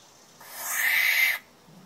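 A captive barn owl held in the hand for banding lets out a single loud, harsh rasping screech lasting about a second, close up and alone.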